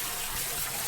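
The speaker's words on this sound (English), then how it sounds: "You want to use a 45-degree angle on the hose, a large amount of water pressure" Garden hose water sprayed at a 45-degree angle under high pressure onto a pleated pool filter, a steady, close, continuous hissing gush with no pauses.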